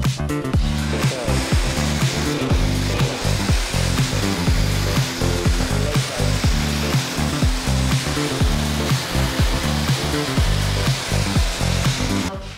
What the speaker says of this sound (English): we're actually sanding the panel with the epoxy, trying not to break through